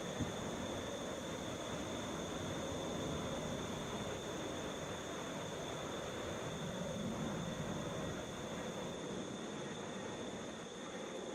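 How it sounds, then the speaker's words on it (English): A Delta Boeing 737 arriving from Fort Myers at Atlanta airport makes a steady, fairly distant jet roar with a thin tonal whine, holding an even level throughout with no voices. "Delta 1196 coming in from Fort Myers. Boeing 737."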